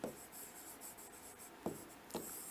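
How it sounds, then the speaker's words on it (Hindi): Marker or chalk writing on a board during a reasoning lesson, a soft continuous scratchy rub with a few sharper squeaky strokes near the end, close and alone with no talk. "और इस पे इंपॉर्टेंट लिख रहा"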